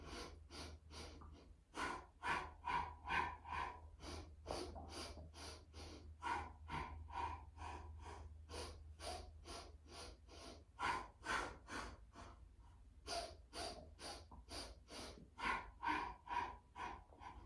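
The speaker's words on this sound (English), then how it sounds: "Breathe in for 5 and out for 5." Steady paced breathing during a Pilates core exercise, a long run of rhythmic short breaths, faint and close, repeating evenly over a low background hum.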